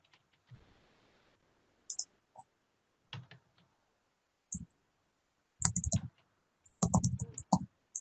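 Someone types on a computer keyboard: close, irregular bursts of clicking keystrokes separated by short pauses, with no talking.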